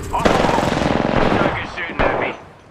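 Rapid automatic gunfire in the Apex Legends video game, a dense loud burst of shots with a sharp crack near the end. Character voices speak over part of the shooting.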